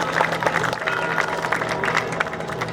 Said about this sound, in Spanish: Un fuerte aplauso para Sven, el comerciante.